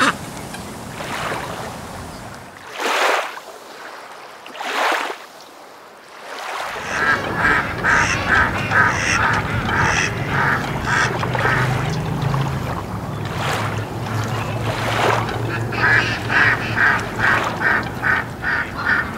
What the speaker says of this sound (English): For duck.